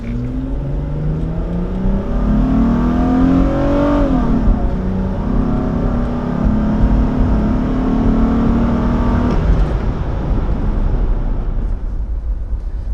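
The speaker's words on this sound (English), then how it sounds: "The V6 does a good job of getting this thing up and going." A 2003 Isuzu Rodeo's V6 engine revs and pulls hard as the SUV accelerates, rising in pitch through a few gear changes before easing off; loud and steady, no talk.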